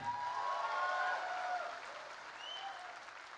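Audience at a Tiprasa cultural programme in Bangalore claps for a few seconds, moderately loud, then tapering off as a faint voice rises over it.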